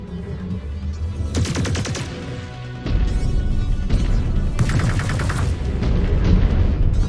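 Heavy weapon fire from battling mechs in the MechWarrior 5: Clans video game, with repeated booming shots and rapid bursts over a constant rumbling background, loud and close throughout without speech.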